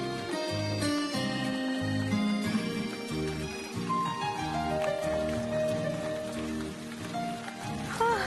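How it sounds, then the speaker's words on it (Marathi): Steady rainfall patters down throughout, mixed under a continuous bed of melodic background music, with no talking. "अरे देवा, पाऊस"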